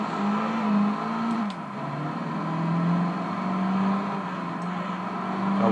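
A Lotus Elise engine from the PS2 racing game Gran Turismo Concept 2002 Tokyo-Geneva drones steadily, its pitch rising and dipping slightly as the car drives, with no speech.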